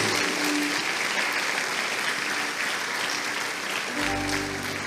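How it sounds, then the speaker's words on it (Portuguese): Churchgoers in a worship hall applaud in a sustained, dense round of clapping lasting several seconds, with a low rumble of room noise underneath toward the end. "Aplauda ao Senhor Jesus"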